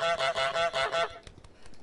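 A cartoonish goose from Untitled Goose Game honks five times in quick, even succession, loud and close, followed by faint clattering game sounds.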